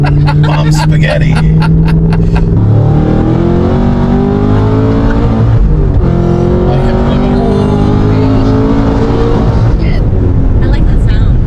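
Loud, close Cadillac CT5-V Blackwing V8 being tuned, its engine droning and revving up through a strong steady note with sweeping pitch changes; people talk over it.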